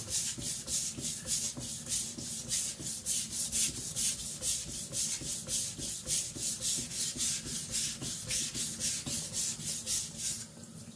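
An IKEA Chinese cleaver scrapes back and forth across a coarse whetstone in a steady, even rhythm, roughly two to three gritty strokes per second, close and alone with no talking.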